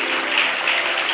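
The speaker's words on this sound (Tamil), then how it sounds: "கைத்தட்டுங்க" A congregation at a church Bible study clapping together, a brief, dense, even patter of many hands at close range with no voices over it.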